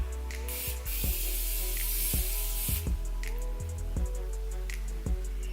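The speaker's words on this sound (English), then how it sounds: "I guess I do have this Morphe setting spray" Morphe setting spray misting in quick repeated pumps, about five or six short hissing bursts at a steady rhythm, close and fairly loud, with no talking.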